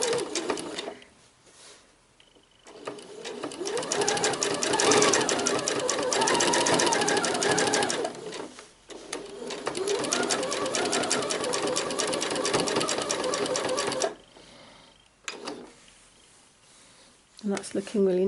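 A sewing machine stitching a shirred elastic summer dress, its needle chattering in a fast, even rattle through two long runs with brief pauses between, close and clear; a voice talks quietly in the gaps.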